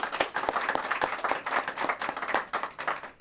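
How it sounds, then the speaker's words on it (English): An audience applauds at a community event in Saginaw County with dense, steady clapping that keeps going for the whole stretch, with no voices over it. "that in itself deserves another round of applause"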